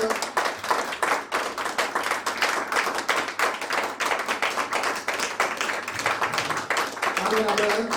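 A church congregation claps in a fast, steady rhythm during worship, the sharp hand claps dense and continuous under singing or talking voices.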